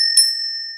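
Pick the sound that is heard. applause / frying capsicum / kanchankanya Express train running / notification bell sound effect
notification bell sound effect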